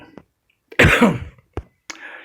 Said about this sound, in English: I had to cough there for a bit.